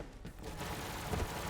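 Gunfire in Borderlands 3 on PC, from a crit-build weapon: a quick, dense burst of rapid shots with a heavier thump near the end, loud and close, with no talking.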